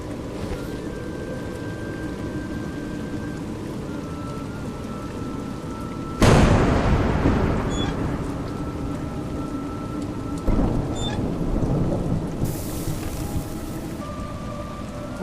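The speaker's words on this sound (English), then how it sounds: "It's raining." Steady rain falls in the video game A Juggler's Tale, broken by two loud close thunder cracks that roll and fade, the first much heavier than the second.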